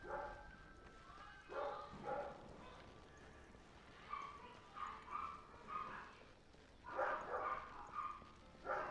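A dog barks in short bursts in the video game Darksiders II, repeated at irregular intervals among game sound effects, fairly faint overall.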